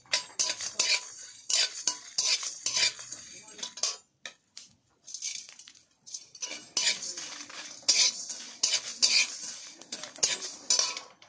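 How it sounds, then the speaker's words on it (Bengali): Whole cumin and fennel seeds with radhuni frying in a pan for a singara recipe; a spoon scrapes and clinks against the metal in bursts of stirring, close and fairly loud, with brief pauses between strokes. "মিডিয়াম আছে মশলা ভেজে নেব।"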